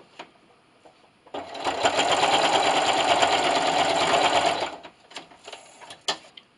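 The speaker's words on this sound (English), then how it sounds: "don't forget to back stitch at the end" A sewing machine back stitches through pot holder fabric in one steady, close mechanical run of about three seconds, framed by small clicks and handling noises before and after.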